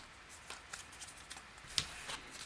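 Deck of game cards for the Aeon's End card game being shuffled by hand at a tabletop: a series of soft, quick riffling flicks with one sharper snap near the end, faint and close, with no talking.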